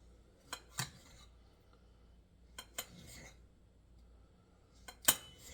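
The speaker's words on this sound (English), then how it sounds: "when you cut up the peppers, you have to cut them up in really small pieces or really stringy pieces" A knife chops bell peppers into small pieces for pet birds, making quiet paired taps and clicks on a cutting surface at irregular intervals in an otherwise hushed room.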